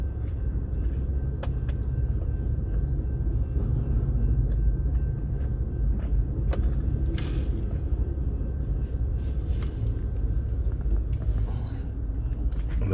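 Low, continuous rumble of a train rolling along a railroad, heard steadily from a distance for over ten seconds with no voices, a few faint clanks rising briefly above the drone.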